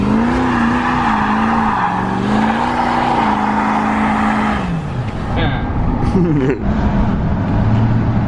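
A Ranger utility vehicle drives through snow, its engine loud and close with a wavering pitch that drops and shifts as it moves, with voices talking over it.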